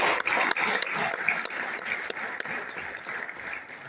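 Audience applause fills a hall after a spoken poem about autism, steady and moderately loud, with sharp individual claps standing out against the dense clatter for the full stretch.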